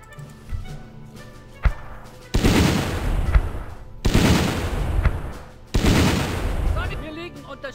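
A mortar in the WW2 strategy game Battle Academy fires three heavy booms spaced a couple of seconds apart, each with a rumbling tail, after a few quieter thuds.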